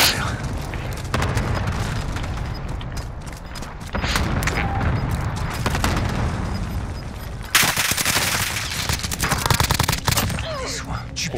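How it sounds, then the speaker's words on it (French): In the Fortune's Keep video game, dense bursts of gunfire crack and rattle almost without pause, loud and close, with heavy booming stretches and a sharp surge near the end. "Antoine, il me tire dessus."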